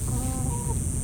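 Several backyard chickens cluck softly and steadily over a low, constant background hum, with no one speaking; the hens are suspected of picking on another bird, and the setting is a Tucson yard shared with cats.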